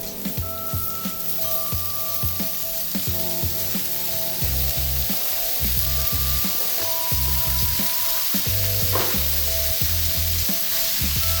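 Ground turkey frying in a pan with added oil gives a loud, close, continuous sizzle broken by repeated scraping and stirring strokes, with no talking.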